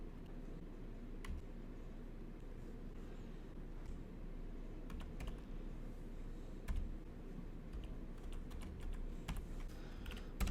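Computer keyboard being typed on while entering code, with quick soft irregular key clicks over a low steady background hum, faint and close, with no talking.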